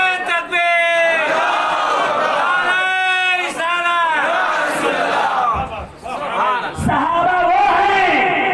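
A large gathering at a Muharram religious meeting in Raipur roars a loud chanted reply to the Takbir call, many voices shouting in unison in sustained swelling waves with echo, close and dense throughout.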